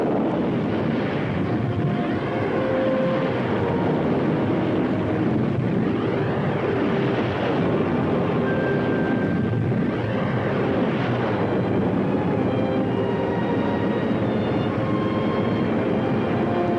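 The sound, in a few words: spacecraft engines starting and running at full power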